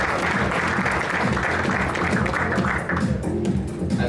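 An audience at an awards ceremony claps in a sustained, dense round of applause, loud and even throughout with faint voices mixed in beneath it.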